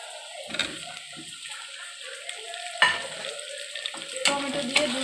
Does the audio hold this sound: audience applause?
no